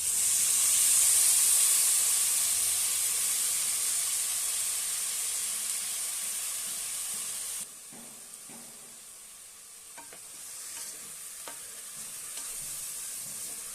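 Rice is added to masala in a hot pan for sweet corn pulav, with mint and coriander in it. A loud, hissing sizzle drops off abruptly partway through, followed by quieter frying and scattered stirring scrapes and clinks.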